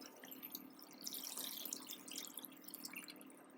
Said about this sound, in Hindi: अब मैं इसमें जो है 3 कप भर के पानी डाल रही हूँ।